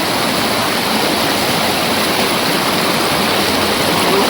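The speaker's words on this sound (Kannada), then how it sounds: "ನೋಡಿ ಹೆಂಗಿದೆ ಫಾಲ್ಸು." The Mallankonda waterfall, running full, pours with a loud, continuous rushing roar heard up close, with no voices over it.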